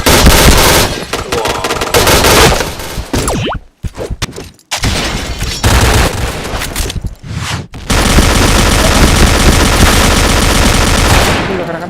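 Gunfire in a tactical video game shooter, loud rapid bursts of automatic fire in long sustained volleys broken by a few brief gaps, close and dense throughout, with no talk heard.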